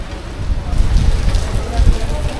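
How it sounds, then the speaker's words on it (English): Loud, heavy rain from a sudden storm pours down close by in Tlaquepaque, Mexico, a thick roaring patter that swells slightly and stays continuous throughout. "the rain's coming down hard"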